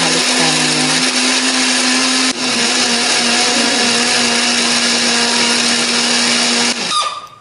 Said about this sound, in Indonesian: Bumbunya akan kita haluskan ya.